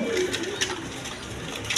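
Pigeons coo softly and repeatedly close by, low throaty calls with a few light background clicks and no clear talking.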